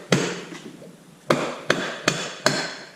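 Sharp tool taps strike the split line of a vintage Polaris TX 440cc engine's cases, five crisp close knocks, the first alone and then four in a quicker, uneven run, each followed by a brief ring.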